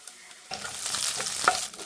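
Finely chopped garlic and curry leaves hit hot oil for a chicken fry, bursting into a sudden close sizzle with a few crackles and a stirring clink, no voices.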